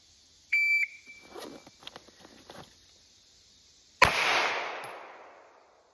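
Single pistol shot from a Canik MC9 fired at a range target about 10 yards away, preceded by a shot-timer beep and some faint handling noise, one sharp loud crack with a ringing decay.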